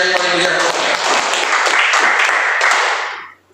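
Church congregation bursts into loud, dense applause that fills the space steadily and then trails away at the end, with a voice briefly heard at the start.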